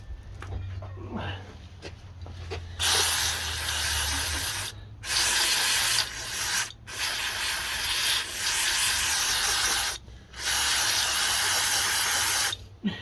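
Carb cleaner sprays in several long, loud hissing bursts with brief pauses between them, aimed at the carburetor of an Ariens 8524 snowblower under repair.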